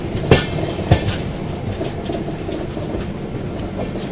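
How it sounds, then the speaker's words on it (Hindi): East Coast Express train rounding a long curve after a diversion toward the Warangal line: a steady rolling rumble of carriages on rails, with two sharp wheel clacks in the opening second. "काफ़ी अच्छा लंबा सा एक कर्व लेती है ट्रेन इस डाइवर्जन के बाद में, तब वरंगल वाली लाइन पे हम लोग पहुंचते हैं।"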